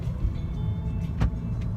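Steady low rumble of a car being driven along a road, an even engine and road drone throughout with a brief louder bump partway through, no talking.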